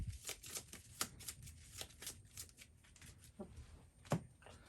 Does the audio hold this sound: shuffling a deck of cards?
yes